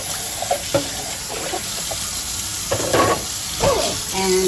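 Parts of an Omega J8006 juicer rinsed under a kitchen sink tap: a steady rush of running water with a few light plastic clinks and knocks, close by.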